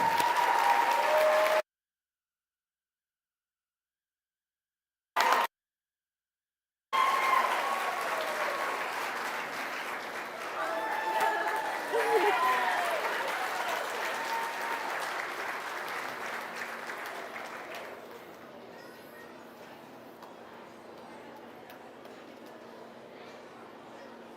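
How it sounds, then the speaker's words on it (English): Crowd at a county fair goat and swine showmanship final applauds the senior showmen, sustained clapping with a brief break, then fading gradually toward the end while a voice speaks over it. "Let's give all these seniors one more big round of applause"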